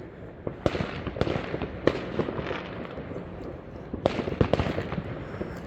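Fireworks being set off, a series of sharp cracks and bangs at irregular intervals over a continuous crackling wash, fairly distant and moderately loud, with a dense burst of reports near the end.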